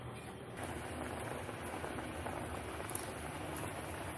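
Rice simmering in water in a pot on a gas stove, a soft, steady bubbling hiss that stays faint throughout.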